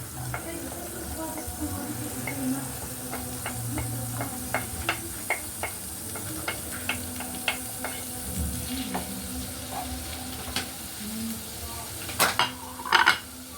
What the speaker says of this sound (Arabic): صافي هنايا درت الزبده ديالي وزيت العود، غادي ندير البصله هي الاولى باش طيب